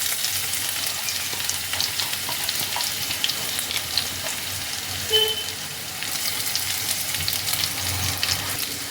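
Chopped ginger and garlic fry in hot oil for palak paneer with a steady, bright sizzle and occasional stirring, close up with no talking.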